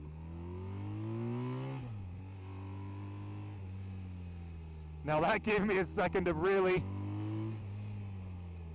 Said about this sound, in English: rev out this engine, because the boxer twin in this and the GS is just so characterful.